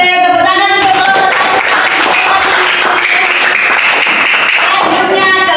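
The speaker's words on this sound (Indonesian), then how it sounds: "tepuk tangan untuk kelompok" A group of people applauds together for a student group in a classroom, the clapping dense and steady throughout with a few voices over it.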